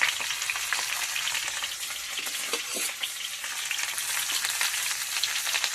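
Potatoes fry in hot oil with a little turmeric for a Bengali fish curry, giving a steady, dense, close sizzle throughout with a few soft clinks of a utensil and no talk.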